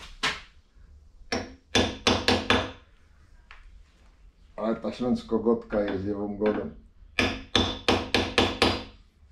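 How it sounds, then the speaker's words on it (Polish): Sharp hammer knocks in quick clusters of three or four, loud and close, with someone talking between the bursts. "Trzeba klupnąć młotkiem."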